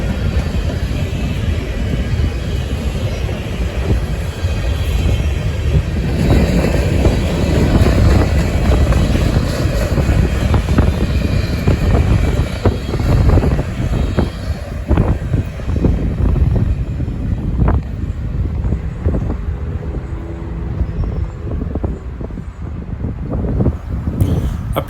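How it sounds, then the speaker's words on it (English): A long freight train of low gondolas lettered for U.S. Steel rolls steadily past at close range in Cincinnati, a continuous broadband rumble with clanks and rattles from the cars throughout, no voices. "A long line of low gondolas rolls past our position."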